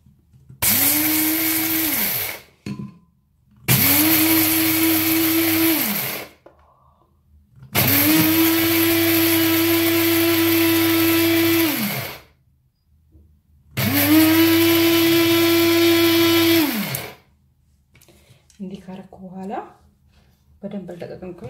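An electric grinder grinds two spoonfuls of rice in four loud, droning runs of a few seconds each, separated by pauses, with brief talk between them.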